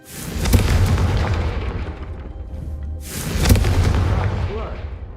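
Two heavy booming blasts, about three seconds apart, each swelling and then fading, as a Confringo spell strikes candelabras in the Hogwarts Legacy video game.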